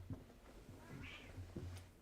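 A cat meows in the Bad End Theater video game, a single drawn-out call rising and falling over a low, steady game soundtrack.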